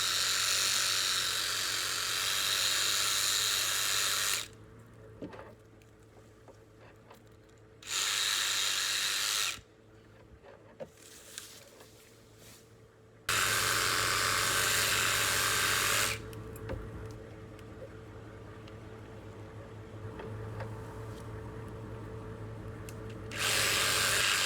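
A chainsaw cutting down a tree limb outdoors runs in loud sustained bursts that alternate with quieter idling stretches, rising to full-throttle roars several times over the span.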